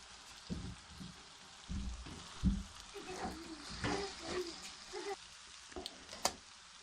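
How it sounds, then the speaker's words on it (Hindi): Spiced vermicelli (sawaiyan) with mixed vegetables frying in a pan while being stirred, giving soft sizzling and scraping strokes at an uneven pace, close and fairly quiet. "सारे मसाले को और सवैयों को अच्छी तरह मिक्स कर लेंगे"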